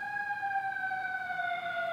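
An emergency vehicle siren wails through a city street in Los Angeles, a steady, slowly falling tone with strong harmonics, fairly loud and continuous over faint background noise, with no talking.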